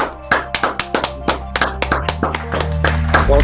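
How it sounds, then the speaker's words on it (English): A small group claps in a rhythmic, sharply separated beat on a sports post-game show, each clap crisp and close, with a low hum running underneath. "Clap it up, everybody"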